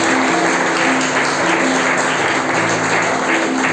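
A congregation claps together in church during worship, a steady wash of applause with faint tonal hum behind it and no clear speech.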